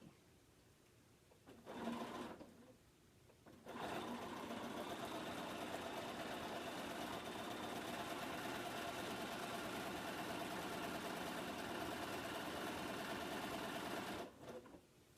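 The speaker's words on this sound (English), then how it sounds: "Then I pick up the next one, flip it over to the correct side, and keep sewing." A sewing machine stitches log cabin quilt pieces, running in a steady close mechanical whirr for about ten seconds after a brief start, with short pauses and handling sounds at either end.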